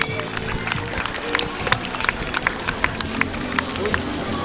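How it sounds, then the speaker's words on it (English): An audience claps at an outdoor dolphin show, a steady wash of scattered handclaps blending with crowd murmur throughout, fairly close and moderately loud, with voices chattering underneath. "how about a nice round of applause for that?"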